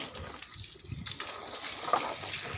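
Water runs and splashes as clothes are rinsed, a steady gushing flow heard close at moderate loudness.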